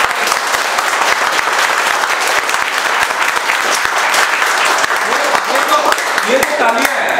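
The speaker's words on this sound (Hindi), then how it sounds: "सो एक बार जोरदार ताली बजाओ अपने लिए भाई" Loud, continuous applause from a class audience at a mobile repair training session, a dense close wash of clapping hands throughout, with faint voices mixed in near the end.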